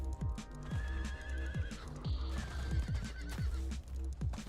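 A horse in the Diablo 4 game neighs loudly over rhythmic galloping hoof clops, the whinny rising and trailing off while hooves keep pounding at a quick steady pace.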